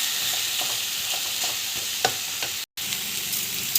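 Spiced raw banana (valakai) poriyal being sautéed in a pan, with a loud constant sizzle, occasional spatula scrapes and clinks close up, and a brief dropout near the end, no voices.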